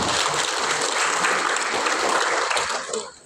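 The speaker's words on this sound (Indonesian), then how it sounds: "Tepuk tangan sekali lagi untuk kami." Audience applause at an Indonesian government keynote event, a dense, loud, even wash of many hands clapping that fades out at the end.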